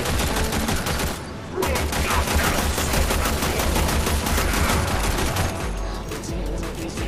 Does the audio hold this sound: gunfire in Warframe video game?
yes